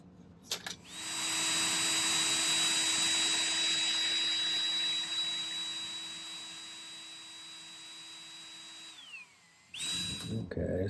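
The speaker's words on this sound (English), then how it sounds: "I just drilled a hole through the kind of the tip of the leaf there." A small drill bit bores a hole through the tip of a silver leaf in a silversmithing workshop, a steady high-pitched whine running for about eight seconds, winding down, then briefly starting again close up.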